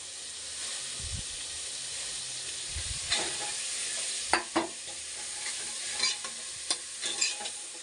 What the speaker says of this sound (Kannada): ಅದನ್ನು ಕೂಡ ಫ್ರೈಯಲ್ಲಿ ಕೂಡ ಹಾಕಿ ಫ್ರೈ ಮಾಡಬೇಕು